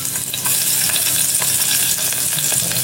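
Ginger and garlic frying in a pan, a loud dense sizzle held throughout with light stirring scrapes over a few seconds, no talk.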